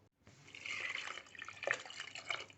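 Water pours and splashes over toor dal and spinach in a pressure cooker, a short, quiet trickling stream that swells and gurgles for a couple of seconds.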